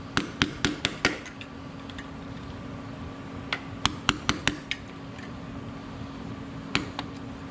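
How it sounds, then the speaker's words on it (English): A screwdriver bends a lock washer tab on a front wheel bearing of a 1983 Toyota, making clusters of sharp, quick metallic taps in two rapid bunches and a couple of later strikes over a low background hum. "we're going to take our screwdriver and bend that tab down"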